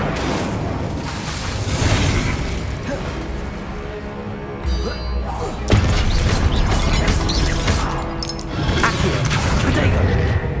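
In the Hogwarts Legacy video game, the Incendio fire spell is cast amid dense combat effects: loud whooshing bursts and booming impacts over a continuous rumbling mix, with a voice calling out.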